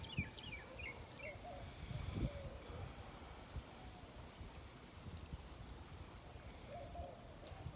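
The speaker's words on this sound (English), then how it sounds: "We're watering these things in." Ground cherry seedlings being watered in outdoors, a soft continuous trickle and pour of water onto soil, faint and steady, with birds chirping in the background.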